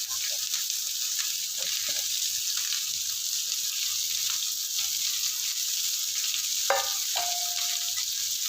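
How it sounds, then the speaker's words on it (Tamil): A single green chili and curry leaves sauté in a pan for masala dosa filling, a steady, hissing sizzle with occasional faint stirring and a brief clink. "இதை நல்லா வதக்கிக்கலாம்."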